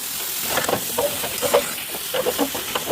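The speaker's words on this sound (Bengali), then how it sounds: "ভালো করে নেড়ে চেড়ে নিতে হবে।" Eggs and spinach with turmeric are stirred in a hot frying pan, a soft steady sizzle broken by light scraping and clinking of a utensil, close by and without talking.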